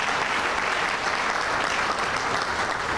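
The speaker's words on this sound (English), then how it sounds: "You can clap for that." Steady, dense applause fills a topping off ceremony for the 43 Green development in a city, a large audience clapping continuously and fairly loudly with no break.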